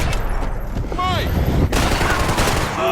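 Gunfire from the Max Payne 3 game, a loud, continuous burst of rapid shots and explosive cracks that fills the whole moment, with faint voices underneath.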